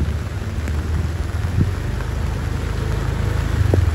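Steady rain pours onto a city street in Nha Trang on a wet day, a constant hissing wash with low traffic rumble underneath and no voices.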